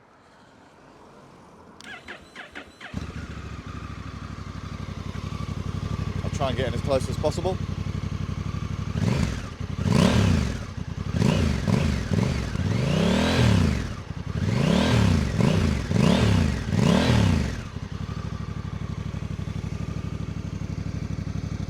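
A 2024 Honda Africa Twin Adventure 1100 ES motorcycle engine starts and idles with a deep, thumping rumble, revving in several loud bursts, close by, while a person speaks briefly at the start.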